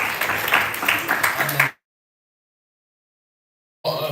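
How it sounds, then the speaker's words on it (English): An audience at a live music event gives a round of applause, a dense burst of clapping for under two seconds that cuts off abruptly, then resumes briefly after a pause. "can we just give him a round of applause?"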